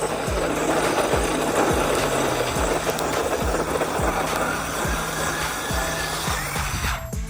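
A Traxxas Mini Maxx 6s RC truck driving, a buzzy high-pitched electric motor whine with rhythmic pulsing surges and gravelly tyre noise, close and continuous.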